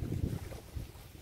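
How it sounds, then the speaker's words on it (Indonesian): Strong wind gusts over a bridge spanning a choppy river, buffeting the microphone in low rumbling bursts that rise and fall, with no talk. "Anginnya di sini sangat sangat kencang anginnya ya sobat-sobatku."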